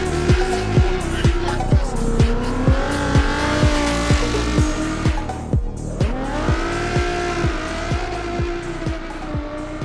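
A race car at the World Race Series Yas Marina event works through turns and a slalom, its loud engine revving in rhythmic surges while the tires squeal and skid continuously, close and dominant.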